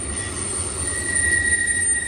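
An empty 1987 BNSF freight train rolls past at Cajon Summit with its car springs wide open, giving a steady loud rumble with a sustained high metallic wheel squeal throughout and no voices.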